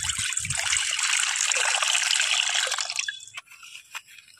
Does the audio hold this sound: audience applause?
no